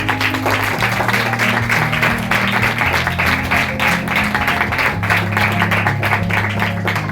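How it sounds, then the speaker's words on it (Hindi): A church congregation claps loudly and steadily together, a dense, sustained wave of applause from many hands with low music held underneath throughout. "अपने लिए जोरदार तालियां दीजिए।"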